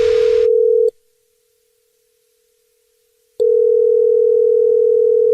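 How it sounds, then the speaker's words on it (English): A steady telephone dial tone plays loud and alone, cuts out into silence for a few seconds, then resumes, just before a radio show's prank call. "It's another Jubal phone prank"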